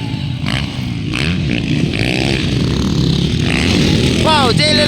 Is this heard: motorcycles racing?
yes